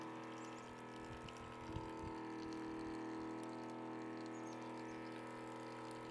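A reverse osmosis pump for maple sap runs at an outdoor sugarbush with liquid moving through its lines, giving a steady mechanical hum and faint watery flow throughout, with one brief knock near the start.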